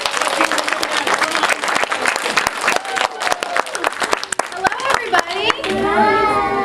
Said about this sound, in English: Put those hands together. Big loud clap.